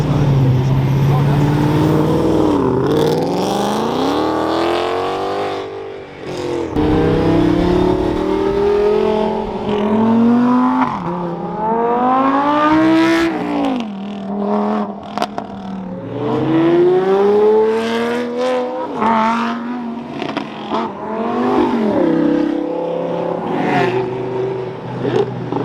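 A Mustang muscle car fitted with a Rift exhaust revs and accelerates repeatedly. Its loud engine note climbs in several rising sweeps over about 25 seconds while excited voices talk and shout throughout.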